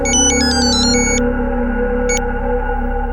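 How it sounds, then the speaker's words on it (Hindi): An incoming-call phone ringtone plays a quick series of bright electronic beeps over a steady low drone, then a single short beep follows after a pause. "पुलिस का फोन था"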